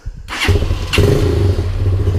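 A Lifan CitiR 200 motorcycle engine fires up after sitting unused through the winter and then settles into a loud, steady idle to warm up close by, with no voices.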